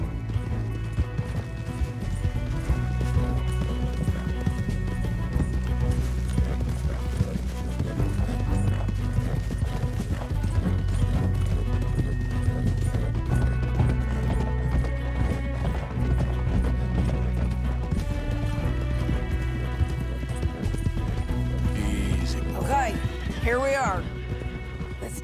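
Steady hoofbeats of galloping horses in Red Dead Redemption 2 run throughout, layered under dense music and ambient game sound, with a brief rising whinny-like sweep near the end.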